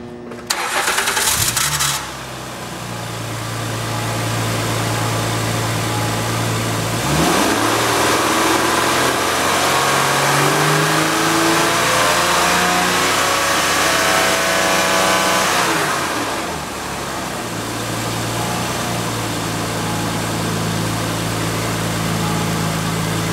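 A 2008 Acura MDX engine cranks and catches, settles into a loud steady idle, then revs up in a long rising sweep and falls back to idle, close and without talk.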